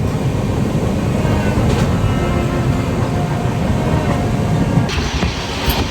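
Howrah Pune Duronto Express running at speed through Maharashtra after overnight rain, a loud steady rumble of railcars on the track with faint rhythmic clatter, heard alone with no talk.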